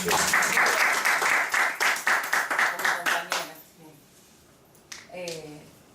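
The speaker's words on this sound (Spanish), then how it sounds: "Un aplauso al disertante." An audience at a private talk on beliefs and mental models gives the speaker warm applause. The claps swell in a rhythmic, pulsing burst for about three seconds, then die away as a voice begins speaking.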